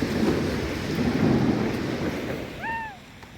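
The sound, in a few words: rain falling outdoors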